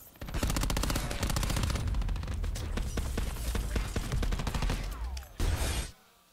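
Dense automatic gunfire from a Call of Duty competitive match, with rapid overlapping bursts ringing loud and close for several seconds before an abrupt drop and a short final burst.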